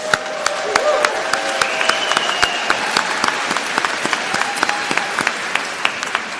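Audience applause fills a graduation commencement ceremony, steady crowd clapping with sharp individual claps standing out, moderately close and sustained throughout.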